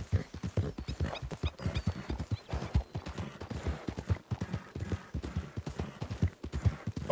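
A horse gallops in Red Dead Redemption 2 with rapid, rhythmic hoof clip-clops that keep a steady beat throughout. The hoofbeats stay fairly quiet and uninterrupted, with no talking.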